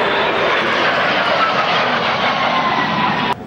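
A Fleet biplane flies gentle aerobatics at the Duxford May air show in 2001. Its engine holds a loud, steady drone the whole way through and drops off sharply just before the end.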